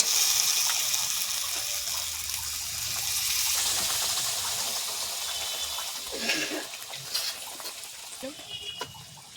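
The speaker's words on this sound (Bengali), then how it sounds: "সামান্য পরিমাণ জল দিলাম" Water is added to a pan of rohu fish kalia cooking in oil with sour curd, giving a gushing, hissing pour and bubbling that settles into sizzling with a few clinks toward the end.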